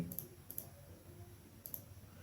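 Mouse clicks on the Public button while uploading to YouTube: a few soft, sharp double clicks, two close together early on and another pair later, quiet against a low room hum.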